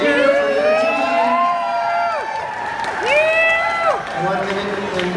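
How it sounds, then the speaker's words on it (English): A crowd cheers for their team at a regional competition: loud overlapping shouts and whoops that rise and fall in long swells, filling the whole stretch. "You can cheer for your team."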